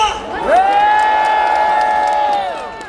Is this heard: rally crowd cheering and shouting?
yes